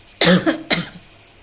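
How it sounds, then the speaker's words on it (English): One person coughs twice in quick succession, a sharp harsh burst followed by a shorter second one, close and loud in an otherwise quiet room. "In between I get cough also,"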